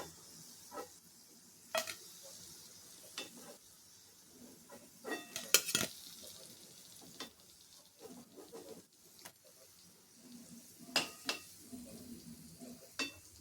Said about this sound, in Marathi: याच पद्धतीने आता सर्व वडे तळून घ्यायचे